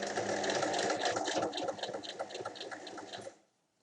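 A sewing machine stitches fabric slowly and steadily, its fast mechanical patter running close and clear for about three seconds before stopping abruptly into silence.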